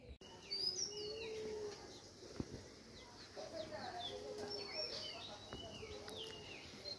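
Birds call outdoors, a mix of chirps, whistles and some clucking from fowl, faint and scattered over steady background ambience with no talking.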